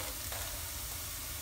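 Idli podi ingredients dry-roasting in a pan, a brief steady rustling sizzle with faint stirring, close and even throughout.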